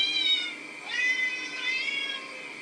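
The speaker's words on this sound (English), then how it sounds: "play the cat noise again" A recorded cat meow played back through a speaker, two or three drawn-out, wavering meows in quick succession, clear and fairly loud with no voices over them.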